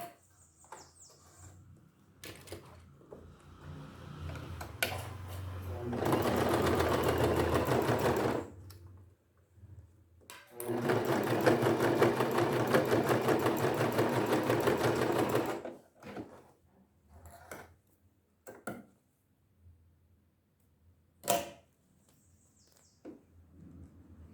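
A sewing machine stitches a seam on a small Easter bunny bag in two loud, steady bursts of whirring, separated by a pause and surrounded by quieter handling clicks and taps.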